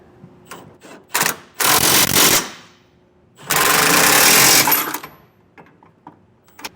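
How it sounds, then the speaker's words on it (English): Bursts of a power impact wrench driving a 24mm socket to tighten hardware under a 2024 GMC Sierra truck bed during a B and W Companion 5th wheel underbed kit install, two long loud runs separated by short ratcheting clicks. "Now we're going to take a 24mm wrench and socket and go around and tighten all of the rest of our hardware underneath."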